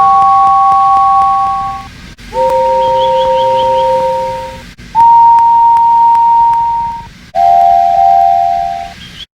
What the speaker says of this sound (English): Whistle now.